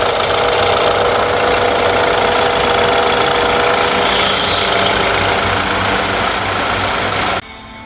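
A BMW 520i with an N20 petrol engine runs steadily in a workshop, loud and close, with an even mechanical hum and light ticking throughout, cutting off abruptly near the end.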